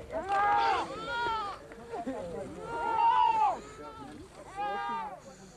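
Goats bleating in a natural pen built within a standing clump of trees in dryland country, with several long wavering bleats in a row, fairly close over a low background.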